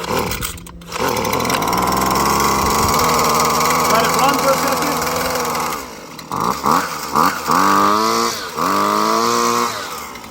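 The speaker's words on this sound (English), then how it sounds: "push this down to half choke, boom, hear that click, and then 2 more pulls and it should start." Husqvarna 330LK weed eater engine catching and running, a loud raspy two-stroke drone that holds steady, briefly drops out near six seconds, then returns with several quick throttle blips.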